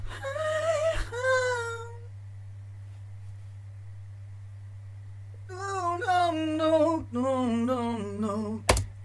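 Dry vocal sample from a rap beat with no effects applied: two clear sung phrases with smooth pitch glides, separated by a quiet stretch of low hum, over a steady bass drone.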